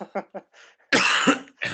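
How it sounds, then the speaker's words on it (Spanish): A few short throaty sounds from a speaker with a sore throat lead into a loud, harsh cough at close range, followed by another rough cough. "estoy un poquito mal de la garganta, lo mismo, tengo que toser"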